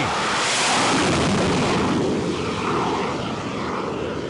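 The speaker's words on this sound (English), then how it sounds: "The Hornet was launched from the carrier, followed by the X-47B." A loud, steady roar of an X-47B unmanned jet launching from an aircraft carrier deck, a sustained broadband engine blast that swells early and stays heavy throughout, with no voices.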